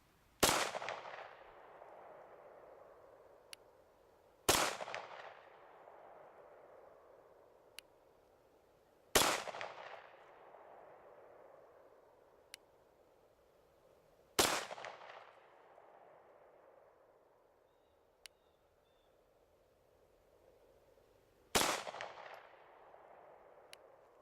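Glock 34 MOS pistol firing at a range, five loud, sharp shots spaced several seconds apart, each with a ringing decay, plus a few faint clicks in between.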